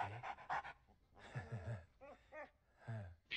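Dog in the Into the Dead 2 game, quick rhythmic panting breaths up close, broken by a few whimpery, sighing gasps, fairly quiet with no talk.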